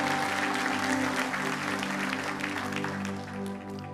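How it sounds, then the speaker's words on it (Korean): A church congregation at a Sunday worship service claps together in a full round of applause over sustained instrumental tones, then the clapping gradually thins out toward the end. "한번 큰 박수로 이 가정 축복해 주시기 바랍니다."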